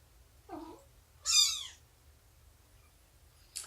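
A cat gives a short, quiet meow and then a louder, brighter one in a calm indoor room, with a faint high chirp at the end.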